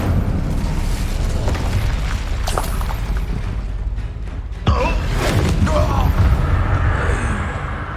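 The Incendio fire spell goes off in Hogwarts Legacy on PS5, a dense roaring rush of flame and impact booms over a constant rumbling bed, with a sharp burst about two-thirds of the way through.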